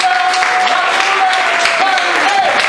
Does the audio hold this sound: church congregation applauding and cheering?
yes